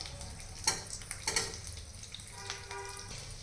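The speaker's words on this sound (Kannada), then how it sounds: "ಇವಾಗ ಇದು ನೀಟಾಗಿ ಫ್ರೈ ಆಗಬೇಕು" Taro root (kesuvina gadde) pieces fry in a pan with a low, steady sizzle, broken by a couple of sharp clinks and light stirring scrapes nearby.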